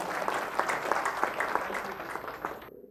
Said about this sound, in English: Yeah, you can clap.